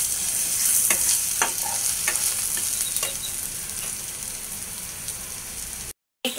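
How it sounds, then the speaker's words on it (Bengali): Whole black peppercorns frying in a pan of hot oil with cloves for a beef liver bhuna, a steady close sizzle with light scraping stirs, briefly cutting out near the end. "এই তো 10-15টা আমি গোলমরিচ দিয়ে দিলাম। এগুলোকে একটু ভাজবো।"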